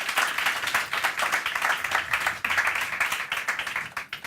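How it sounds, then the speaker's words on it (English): A room full of people clapping steadily, a dense round of applause that carries on throughout and trails off slightly at the end. "give them a big warm welcome and a round of applause for joining us today"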